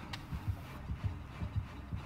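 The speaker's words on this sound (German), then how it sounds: "Hört Herzklopfen." Thumping heartbeat from the horror survival game Dead by Daylight, a steady low double-pulse repeating about every half second at moderate volume over a dense background hiss.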